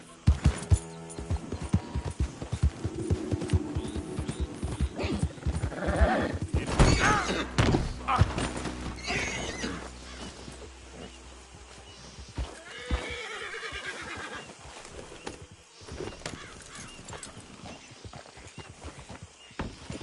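Horse neighing and whinnying with clip-clopping hooves in the Red Dead Redemption 2 video game, loud and close, with a sharp whinny mid-clip and hoofbeats throughout.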